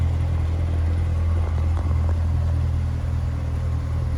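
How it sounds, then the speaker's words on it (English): A 2017 Corvette Z06 3LZ Z07 in Torch Red idles with a steady, deep, low growl that is loud and unbroken. No revving is heard and no one speaks. "What a nice growl to it."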